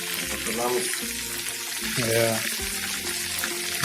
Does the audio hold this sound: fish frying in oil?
yes